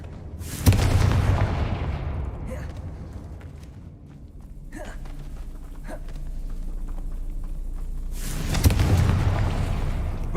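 Two heavy booming blasts from the Confringo spell in Hogwarts Legacy, one near the start and one near the end, with softer magical crackles and rumbling between them.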